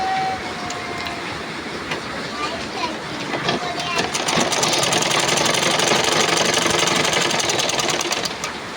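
A sewing machine runs in a fast, rattling stitching burst after its lower bobbin tension has been tightened, the mechanical clatter rising and holding steady for several seconds, close and fairly loud, with a voice heard faintly under it.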